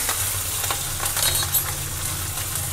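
Green chillies frying in hot oil with peanuts and chana dal for South Indian raw mango chitranna, a steady close crackling sizzle with light stirring clinks throughout.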